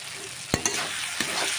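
Fried potatoes being stirred into cooked-down masala for canteen-style Bengali ghugni, with a steady oily sizzle broken by a few sharp spoon scrapes against the pan.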